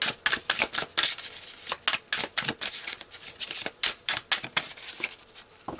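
Tarot cards being shuffled in quick, crisp riffling bursts, close and fairly loud, with short pauses between flurries of snapping paper.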